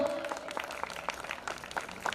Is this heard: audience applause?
yes